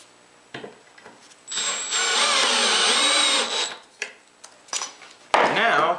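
A power drill drives wood screws into a workbench to anchor a Kreg bench clamp, with one sustained whirring run, short bursts after it and a final quick spin, all close and loud.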